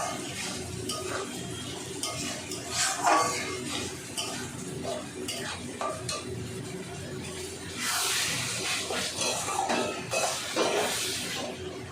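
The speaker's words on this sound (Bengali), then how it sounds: "এবার ভালো করে একটু নাড়াচাড়া করে নেব মশলার সাথে।" Bata fish is stirred with spices in a pan, with repeated scraping and clinking of a utensil against metal in irregular bursts and a soft sizzle running underneath.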